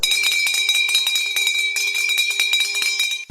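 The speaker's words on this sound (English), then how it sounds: "we hear this sleigh bells, hear the cowbell. It was really ringing loud." Bright sleigh bells jingle continuously with a sharper, hollow cowbell clanking rhythmically over them, loud and close.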